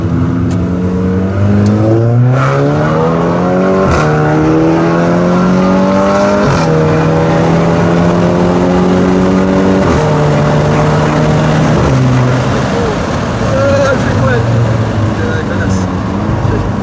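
A stage 3 tuned car revs loudly and accelerates hard through several gear changes, its engine pitch climbing and dropping at each shift, close and dominant the whole time, with voices talking underneath.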